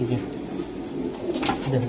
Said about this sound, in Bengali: এটা বেজি কবুতর